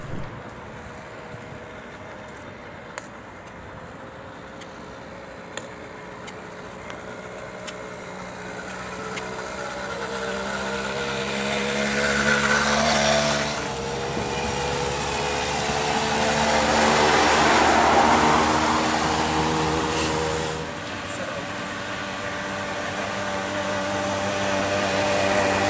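A hydrogen-powered 80cc two-stroke bicycle engine runs with a steady buzzing drone that swells louder and rougher in the middle and eases back near the end, with no voices.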